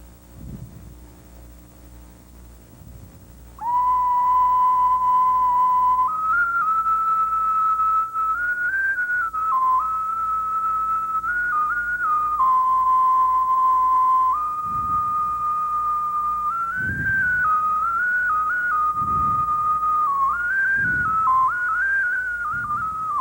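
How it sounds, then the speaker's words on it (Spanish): A clay vessel whistles in a clear, sustained high tone, holding steady pitches with small stepwise shifts, loud and continuous for about twenty seconds, with soft knocks beneath. "Voy a hacer silbar esta pieza, que es bellísima."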